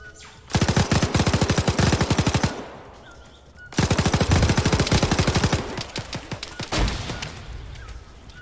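Belt-fed machine gun firing in ArmA 3, two long sustained bursts of rapid, evenly spaced shots, loud and close, separated by a brief pause, with scattered distant gunfire after the second burst.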